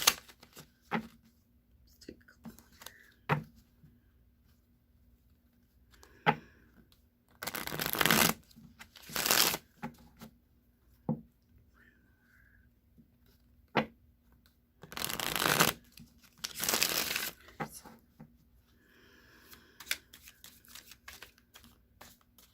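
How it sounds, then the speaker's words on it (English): A deck of playing cards shuffled by hand in several sharp riffling bursts, close and crisp, separated by quiet stretches with small taps and card handling, no talking. "I'm going to shuffle this deck now"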